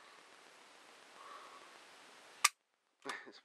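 A deactivated Beretta 92 FS pistol in single-action mode releases its sear with one sharp, close click against a faint hiss, followed by a brief softer rustle.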